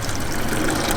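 Water carrying baby catfish, with snails in it too, is poured out in one loud, continuous, close-up splashing gush.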